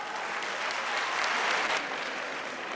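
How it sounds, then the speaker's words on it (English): A conference hall audience claps together, a thick, continuous burst of applause that swells slightly in the middle and stays loud and even to the end. "everyone is clapping for me"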